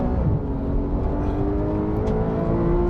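Porsche 911 GT3 of the 991 generation, a high-revving engine with a steady, smooth, rising mechanical drone heard from inside the car, loud and continuous, with no talking.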